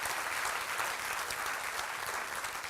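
A church congregation breaks into steady, dense applause that fills the room evenly throughout.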